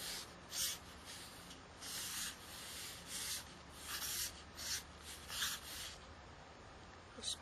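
Pen or pencil sketching a go-kart schematic on paper, a quiet series of short scratchy strokes in bursts with brief pauses between them, close and soft.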